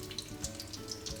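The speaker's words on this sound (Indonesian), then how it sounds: "Saya menggoreng bawangnya dulu." Garlic and shallots sizzle and crackle steadily in frying oil in a pan, with small popping bursts scattered throughout and no voices.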